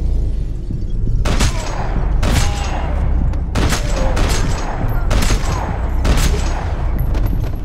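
Gunfire in the video game Max Payne 3: a rapid string of about seven loud, sharp shots spaced roughly a second apart, over a dense, rumbling game background.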